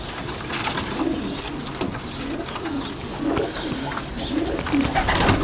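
A male dab pigeon of a high-flying breed coos close by in a series of soft, rhythmic low calls repeated across the clip, set against faint background noise and occasional chirps.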